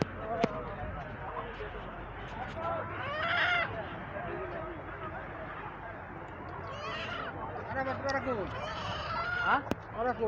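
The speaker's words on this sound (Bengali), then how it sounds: "এখানে মুরগির হাট" Chickens and roosters at a poultry market in Saudi Arabia, with repeated crowing and busy clucking filling the air under steady crowd talk, plus a sharp knock near the end.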